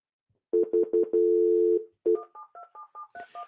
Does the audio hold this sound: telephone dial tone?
yes